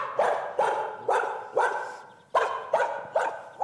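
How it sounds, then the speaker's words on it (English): A dog barks in a quick series of eight sharp, evenly spaced barks, close and clear, with a brief pause after the fifth. "So here is bark one."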